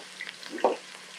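Onions for pilau sizzling and being stirred in a pot, a soft steady frying hiss with one brief louder scrape of the spoon midway, close and fairly quiet with no talking.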